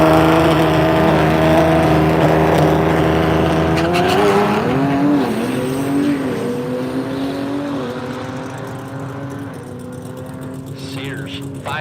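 An LS-powered drag car makes a quarter-mile pass at a dragstrip during a drag-and-drive rally, its loud engine note rising through gears and then fading as it pulls away, with a voice talking over the racket.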